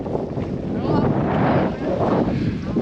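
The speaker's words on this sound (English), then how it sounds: "The wind's starting to die down a little bit" Wind gusting across a wild campsite beside Llyn y Fan Fawr, a mountain lake in the Brecon Beacons, a steady broadband rush buffeting the microphone and swelling mid-clip while the camper talks over it.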